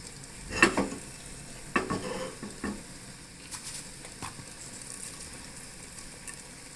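Cumin and mustard seeds frying in a pan: a soft, steady sizzle with a few sharp stirring scrapes and clinks early on, then quieter crackling and faint popping, with no one speaking.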